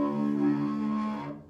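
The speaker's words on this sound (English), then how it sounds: "It sounds kind of ringy and kind of a higher sound than a bass should really have." A double bass bowed with the bow tip pointed toward the floor gives one sustained, ringy, rather bright stroke, held steady and close before fading at the end, with no voices.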